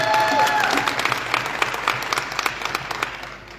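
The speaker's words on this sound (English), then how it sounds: "A big round of applause to Tony Megabush." Crowd applause at a content creators' event, a dense burst of clapping that thins into scattered individual claps and fades toward the end, with some voices underneath.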